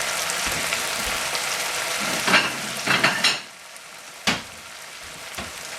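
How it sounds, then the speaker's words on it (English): Leftover Chinese food cooks down in a pan with a steady broadband hiss of bubbling, broken by a few sharp scraping clicks of utensil against pan; the hiss drops away partway through, leaving only quieter scrapes. "Here I'm having to boil it down pretty good."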